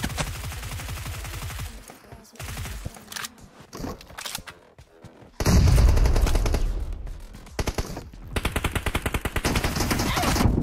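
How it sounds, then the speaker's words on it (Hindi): Rapid automatic gunfire in a 2v2 team deathmatch video game, loud bursts of rattling shots that stop and start, with a heavier stretch of continuous fire in the second half and scattered single cracks, no voices. "भाई फुल कवर फायर दे रहे हैं आसपास।"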